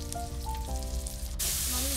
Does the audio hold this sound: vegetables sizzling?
yes